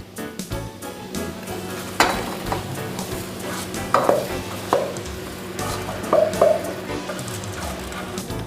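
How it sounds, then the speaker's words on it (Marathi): Washed rice tipped into a pan of frying soya chunks, vegetables and garam masala for a soya chunk biryani: a soft sizzle underneath, with a few distinct thuds and scrapes of grains and a spoon striking the pan. "आता ह्यात आपण धुवून घेतलेले तांदूळ टाकूया"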